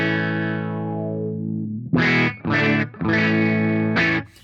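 Sonicake Cry-Bot auto wah effects pedal on an electric guitar, frequency control being adjusted: a long sustained distorted chord fades, then four loud choppy chord bursts follow with a swept wah tone, no talking.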